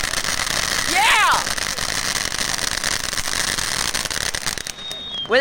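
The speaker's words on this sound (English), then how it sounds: "I think another firework went off in the thing" Fireworks burst at a church firework show, loud crackling pops over a steady outdoor roar, with people cheering and talking nearby throughout.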